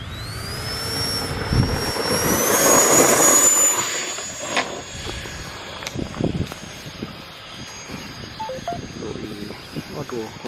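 A DIY radio-controlled Su-57 Felon model jet, electric ducted fan or pusher prop, climbs out on its maiden flight with a rising whining whoosh that swells loudly for several seconds and then fades into a steady distant hum.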